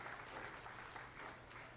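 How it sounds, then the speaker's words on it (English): An audience at a youth bowling tournament applauds the athletes, a faint, distant, steady wash of many hands clapping that carries on without a break. "let's give these athletes a huge round of applause"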